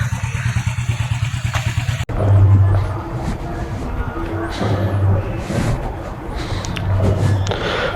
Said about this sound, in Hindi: तो बाइक अपनी मस्त स्टार्ट हो चुकी है, चलो राइड स्टार्ट करते हैं।